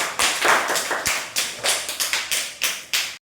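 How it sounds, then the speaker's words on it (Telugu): Classroom applause for a student, a group of schoolchildren clapping in quick bursts of claps that end abruptly, with no talk over it. "Very good. క్లాప్స్."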